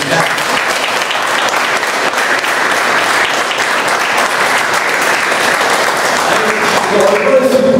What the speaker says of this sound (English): I think all the speakers deserve a big round of applause.